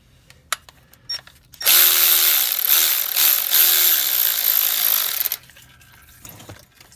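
A power tool spins off a 13mm bolt on a 2007-2013 Chevy pickup with a 5.3 engine, a loud, continuous whir lasting several seconds with slight pulsing, framed by quiet clicks and handling noises.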